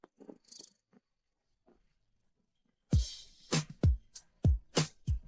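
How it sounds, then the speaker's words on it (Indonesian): A cat purrs in close, rhythmic rumbling pulses after a few seconds of near silence with faint small sounds. "Ada kucing di sini?"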